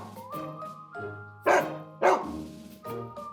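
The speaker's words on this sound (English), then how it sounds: "Number 3, fear of big dogs." Dog barking sound effect for a big dog, several deep barks spaced irregularly, two louder sharp ones in the middle, close and clear with no voices.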